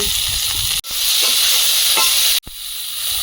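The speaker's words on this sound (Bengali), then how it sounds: "সজনের ডাঁটাটা একটু হালকা করে ভেজে নেবো" Moringa drumstick stems frying lightly in oil in a pan, a steady close broadband sizzle with two brief breaks.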